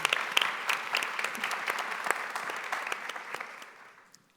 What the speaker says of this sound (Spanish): les pido un aplauso para mi equipo